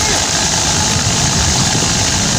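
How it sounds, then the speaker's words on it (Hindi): A fishing launch's engine idles steadily after starting, a dense continuous mechanical drone with rumble and hiss filling the whole stretch, close and fairly loud, with no other sounds standing out. "अभी इंजन स्टार्ट हो चुका है।"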